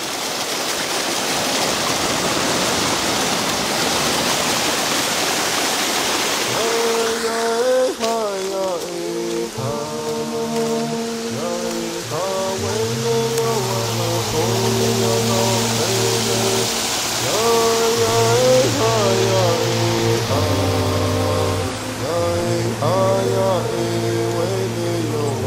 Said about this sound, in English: I'm standing right here on this spot where the waterfall is